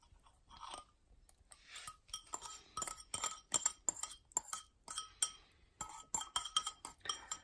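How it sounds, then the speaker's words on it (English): Hot cross bun dough being mixed: egg mixture worked into flour in a glass bowl, with a quick irregular run of clinks and scrapes of a utensil against the bowl, close and clear, no talking. "I'm going to also mix the egg mixture in."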